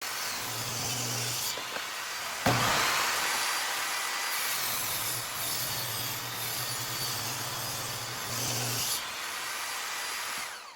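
A power saw cuts through MDF blocks for cabinet feet in a workshop, a continuous harsh rasping whine with a brief sharp burst partway and a motor hum that starts and stops, close and fairly loud.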